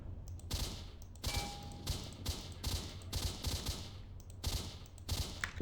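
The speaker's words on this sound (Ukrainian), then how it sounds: "Тоже багато стрілянини" Gunfire in S.T.A.L.K.E.R. Shadow of Chernobyl: repeated bursts of automatic fire crackle in a steady stutter over a low rumbling background, loud and close, with no talk.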